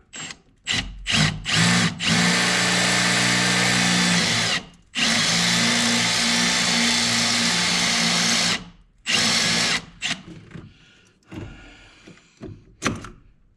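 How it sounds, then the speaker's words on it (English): A power drill drilling out a hole during a steering gear replacement runs in several bursts, whining steadily for a few seconds each, separated by pauses, followed by short choppy spurts and handling noises. "So I'm gonna drill this out."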